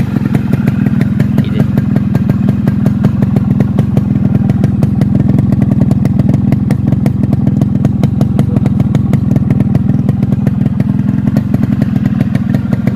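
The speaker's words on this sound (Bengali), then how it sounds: "আমি সাইলেন্সারের মুখে হাত দিলাম এই হাত দিলাম এই ইঞ্জিনের শব্দ" A Yamaha RX 115 motorcycle engine runs steadily at close range, a loud continuous two-stroke putter with dense rapid firing pulses throughout.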